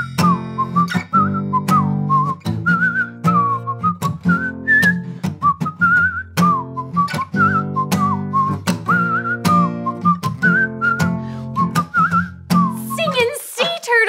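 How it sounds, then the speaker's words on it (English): A man whistles a bright, bouncy tune in a steady run of short phrases, close and clear over a sustained low musical backing, ending with a brief flourish. "Mr. Music, your whistling sounds great!"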